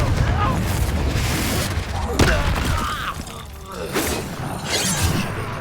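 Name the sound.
spell blast in Hogwarts Legacy video game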